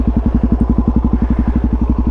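A Suzuki DRZ400 motorcycle idles steadily at about 1400 RPM with its exhaust running straight through, no insert fitted, giving a close, loud, even chugging pulse.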